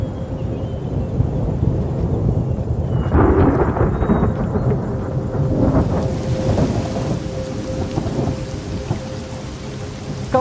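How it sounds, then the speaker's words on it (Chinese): Sudden thunderstorm with a heavy downpour near a lake: dense, steady rain roars throughout while deep thunder rumbles and swells in the middle, with no voices. "刚才晴空万里的，怎么突然下这么大的雨啊？"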